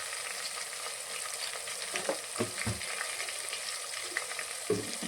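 Spices, ginger-garlic paste and turmeric being stirred in a frying pan for a capsicum masala curry, a soft continuous sizzle broken by several distinct scraping stir strokes, with no voices.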